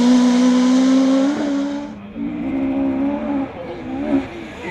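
A Mark II Ford Escort RS 1800 rear-wheel-drive rally car on a rally stage, its engine loud and close with a strong steady drone, then a brief dip and renewed revving as it accelerates past.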